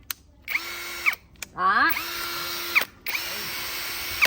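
A Fukan power drill with a 13 mm three-function chuck runs in several short bursts, each spinning up, holding a steady whine and cutting off, with brief pauses between. Someone speaks briefly.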